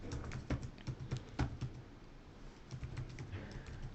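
Typing on a computer keyboard during SQL data cleaning work: quiet, irregular key clicks in short clusters, with a brief pause in the middle before the typing resumes.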